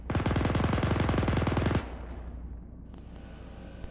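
The coaxial machine gun of an M60 main battle tank fires in a video game, one rapid, loud sustained burst of close shots that cuts off and leaves a fading echoing tail.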